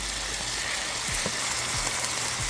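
Damp mushrooms sizzle steadily in a hot pan, a dense continuous crackling hiss, close and even, with a few soft stirring bumps underneath.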